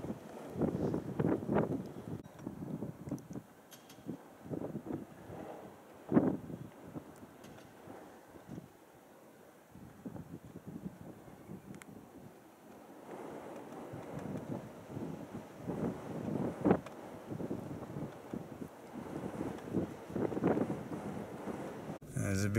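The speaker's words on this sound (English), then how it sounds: "It's a bit windy out there." Gusty wind buffets the microphone in uneven rumbling surges, with occasional low knocks, outdoors and close.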